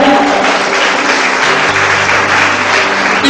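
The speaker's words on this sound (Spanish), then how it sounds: "Le doy un fuerte aplauso al Señor." Loud, sustained applause fills a church congregation, a dense steady wash of clapping hands that carries evenly through the whole stretch.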